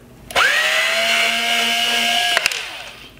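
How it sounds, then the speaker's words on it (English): An electric driver removing T20 screws from the circuit board of a Mercedes-Benz C Class LED headlight, one loud, close, steady whine lasting about two seconds that then winds down, with a couple of sharp clicks near the end. "So there's gonna be three more T20 screws to do this."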